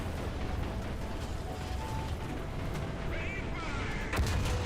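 Booming cannon shots from a 150mm Type 4 Ho-Ro tank gun in War Thunder, heavy low rumbling blasts over continuous battle noise, with a sharper loud report near the end.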